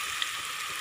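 Onions fry in a pan with a soft, steady sizzle and crackle at low volume, heard alone for under a second.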